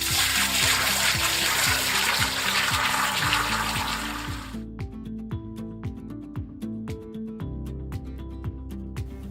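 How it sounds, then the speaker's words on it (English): Water pours in a loud, steady stream into a Toddy Pro Series cold brew container, then stops and gives way to sparse drips and trickles, with a soft musical backing throughout. "We're going to fill water just to this support ring on the inside."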